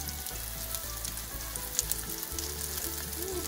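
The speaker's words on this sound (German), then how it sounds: "In einer Pfanne haben wir nun Rapsöl erhitzt und darin werden unsere Eierfrikadellen rundherum angebraten." Egg patties fry in hot rapeseed oil in a pan, a close, steady crackling sizzle with fine popping spatters and a low hum underneath, no talking.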